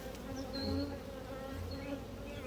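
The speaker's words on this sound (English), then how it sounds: "Because the bees attack the high spots, so when they're attacking you like that, you just bend over." Honey bees from a treatment-free backyard hive buzz steadily around a beekeeper, a dense, continuous drone with individual bees whining closer and fading, no talk.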